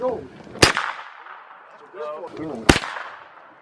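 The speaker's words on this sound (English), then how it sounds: "I'm shooting low" Two sharp gunshots about two seconds apart crack out while shooting at a target, each followed by a short ringing decay, with people talking and murmuring in between.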